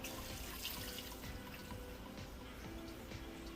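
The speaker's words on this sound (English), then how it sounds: "Now I'm going to add a cup of water into the oxtail." A cup of water is poured into a pot of simmering oxtail, a steady close splashing and trickle that stays even for a few seconds with no talk.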